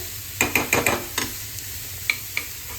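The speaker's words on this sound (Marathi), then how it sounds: "मी त्यांना थोडंसं सॉल्टे करून घेते तेलामध्ये" Vegetables sautéing in hot oil in a pan give a close, steady sizzle broken by a quick run of spoon scrapes and clicks, then two more sharp taps, with no voices.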